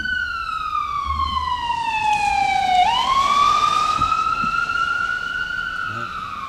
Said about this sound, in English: the bad news is we lost the ambulance or EMTs or whatever that was